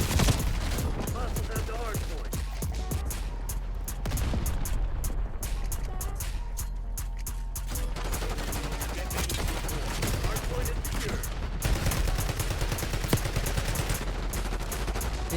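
Sustained gunfire in Call of Duty Black Ops 6, dense overlapping bursts of automatic shots and rattling fire going on for the whole stretch, loud and busy with other game sounds mixed in, and no talking.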